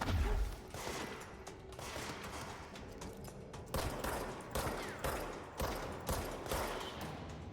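Enemy gunfire in a video game, a rapid fusillade of shots bursting in repeated volleys at moderate loudness, with no one speaking over it.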